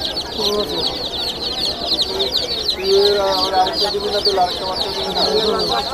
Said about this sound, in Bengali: মুরগি আছে